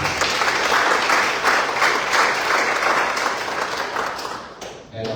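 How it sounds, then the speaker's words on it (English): Sustained audience applause at a football association congress, a dense steady wash of many hands clapping that fills the room and fades out at the end. "Can we give them another round of applause?"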